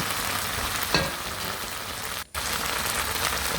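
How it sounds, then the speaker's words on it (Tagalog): Sauce with pineapple slices and green chili bubbling in a pan, giving a steady close sizzle and crackle that runs throughout, with a brief gap near the end and no talking. "ang ating sauce ay kumukulo-kulo na"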